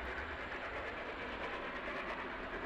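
An H0-scale model BR 44 steam locomotive pulls a train of wagons along model track, giving a close, continuous rolling rumble with a faint clickety-clack. The rolling holds steady throughout and no voices are heard.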